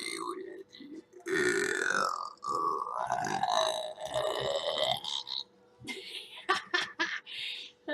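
A woman lets out a long, deep, drawn-out belch and then a second, shorter one, followed by giggling and snickering laughter.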